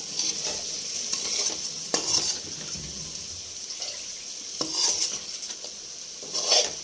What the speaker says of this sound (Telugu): ఇట్లా ఫ్రై కావాలి, బాగా ఫ్రై కావాలి.